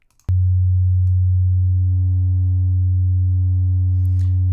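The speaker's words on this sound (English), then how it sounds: "You can hear we're clipping that," A loud, steady low tone clipped by the Airwindows Shape plugin, starting abruptly and holding with a buzzy harmonic edge. Extra upper overtones fade in and out as the clipping changes.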